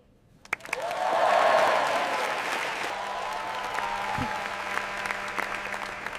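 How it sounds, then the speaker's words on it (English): An audience bursts into applause after a violin performance on a big stage, the clapping swelling quickly and then holding at a steady, fairly loud level. "Everyone is clapping for you."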